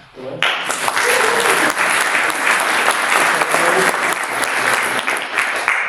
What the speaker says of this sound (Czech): Chce potlesk